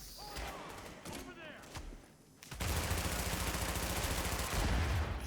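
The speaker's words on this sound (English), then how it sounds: "APC like shooting a bunch of grenades" An APC in The Division lobbing a barrage of grenades, heard as a sudden loud roar of rapid explosive thumps and gunfire that swells midway and continues steadily, with a player's voice faintly present early on.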